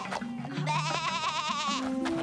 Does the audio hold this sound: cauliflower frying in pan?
no